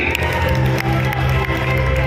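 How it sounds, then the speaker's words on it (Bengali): A loud crowd cheering and clapping continuously, a dense wall of noise with shouts rising over it. "জোরে একটা হাততালি"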